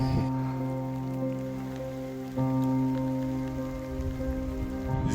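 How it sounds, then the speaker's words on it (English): Steady rain pattering on a surface, heard from beneath a shelter on a windy hillside among vineyards, a continuous close wash with a few louder drops and a low hum underneath, no voices. "it's getting really windy and kind of rainy, so we're gonna sit and wait if this rain passes"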